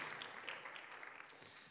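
Church congregation applauding steadily after a call to sit and clap for God during a Spanish-language service, a dense, even wash of clapping held for the whole short stretch with no voices on top.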